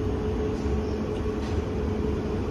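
A loud, continuous rumble of an underground train in motion, with a steady low roar and hiss throughout and no break.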